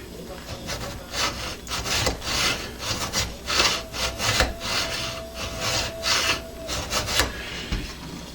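Rhythmic back-and-forth rasping of a fine hand file cutting a small V groove in metal, steady strokes repeating about every half second, close and fairly loud.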